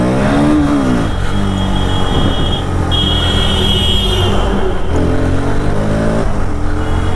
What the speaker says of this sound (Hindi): R15S भाई अच्छा गाड़ी है।